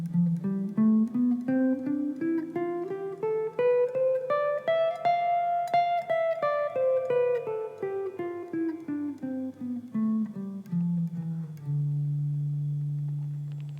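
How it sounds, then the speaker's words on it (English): D Dorian mode played as a scale on guitar: single picked notes climb steadily and then descend, ending on a sustained low note, heard clean and alone. "The D Dorian mode sounds like this."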